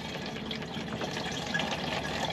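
Water poured steadily into a home-distilling mash of raisins aboard a boat, a continuous close splashing and gurgling of liquid filling a container with no talking.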